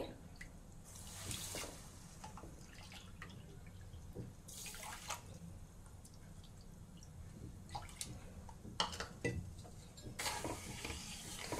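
Water is poured into a pot with two cups of sugar to make light syrup for gulab jamun, heard as three short splashing bursts over a faint, steady kitchen background.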